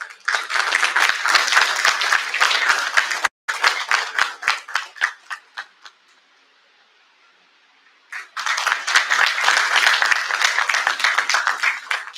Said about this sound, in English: Please welcome Sunil Naik sir with a huge round of applause.